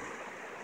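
Cripple Creek, a mountain stream, rushes in a steady broadband wash, faint and continuous, with a light touch of wind noise and no voices.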